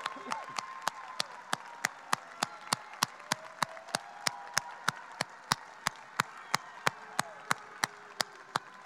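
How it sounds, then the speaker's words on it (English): Steady applause from a crowd at a high school graduation ceremony, with continuous clapping and a regular sharp click ticking throughout at about one beat per second. "Let's give them a loud, loud round of applause."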